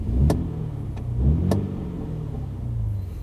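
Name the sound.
car engine growling rumble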